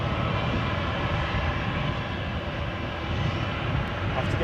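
A Loganair ATR 72-600 turboprop airliner takes off from an intersection at Edinburgh airport, a loud, steady broadband engine roar filling the whole stretch without letup.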